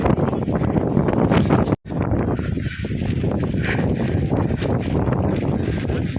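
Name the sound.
strong wind blowing on mountain fort trek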